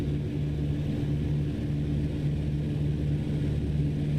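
An aircraft flies along in Microsoft Flight Simulator 2024, with a steady engine drone and low rumble that stays constant and fairly loud, no voices.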